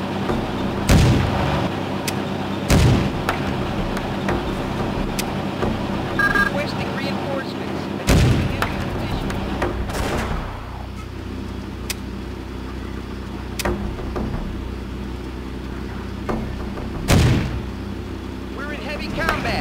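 Gunfire and heavy artillery in the World War II strategy game Blitzkrieg 2: loud booming blasts land every few seconds over a constant rumbling battlefield bed, with a brief in-game voice.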